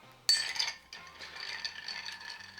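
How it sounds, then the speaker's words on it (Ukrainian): Ice swirls in a mixing glass as a martini with dry vermouth and orange bitters is stirred, a steady close rattling and clinking that starts with a sharp knock and continues evenly. "І стіруємо."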